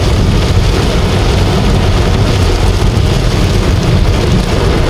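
Steady, dense rain falls in traffic, a continuous close hiss and patter with a low rumble underneath, no voices heard.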